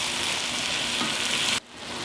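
Meat and peppers for Hungarian goulash frying in a pan, a loud steady sizzle close by that cuts off abruptly near the end, then fades back in.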